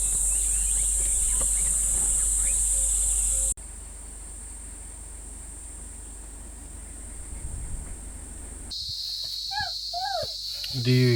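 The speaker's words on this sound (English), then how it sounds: "there's like an infestation of cicadas" A steady, high-pitched cicada drone fills the scene, continuous and loud, at a rest camp in Kruger National Park, with a few sharper chirping calls breaking through near the end.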